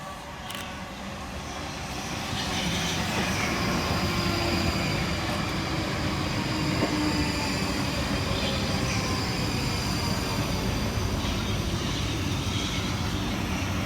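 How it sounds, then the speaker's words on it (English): A South Western Railway Class 458 electric train, unit 458414 coupled with 458402, arrives into a station on the Reading to London Waterloo line, a steady rising rumble and hiss that builds and holds, fairly near. "Arriving next into the station is 458414 and 458402, working the 1317 South Western Railway service from Reading through to London Waterloo."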